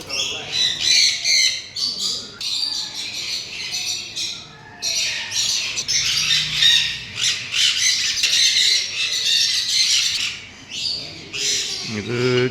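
A macaw at a tourist spot in Kannur gives loud, harsh squawks in repeated raspy bursts close by, with a person talking under the calls.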